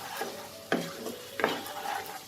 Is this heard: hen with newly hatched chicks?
no